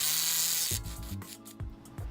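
A long ratchet with a 15mm socket works loose a strut bolt on a Ford Focus SEL: a rough scraping rub, then a few quick close metallic clicks of the pawl.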